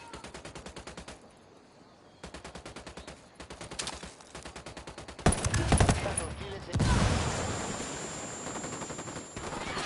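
Gunfire during a sniper attack in a war drama, rapid bursts of automatic shots in trains across the scene, broken by louder heavy blasts midway, with shouted voices among them.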